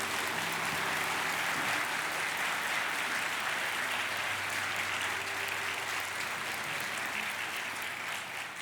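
A church congregation at an early-morning prayer service applauds steadily and loudly, with no break, for about nine seconds as a pastor is welcomed to speak.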